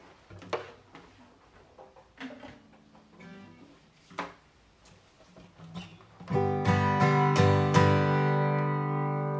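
Faint taps and handling noises give way to a full, resonant strum on a larger acoustic guitar, with several chords ringing out loud and close.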